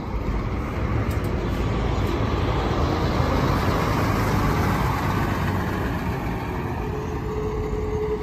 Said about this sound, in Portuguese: Marco Polo Paradiso 1200, chassi Scania K360.